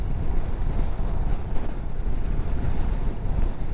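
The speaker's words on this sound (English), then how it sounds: "I didn't think it was going to be this windy." Strong wind buffets the microphone on an Indian Sport Chief motorcycle ride on a cold, windy day, a constant low roar with rumbling gusts and nobody speaking.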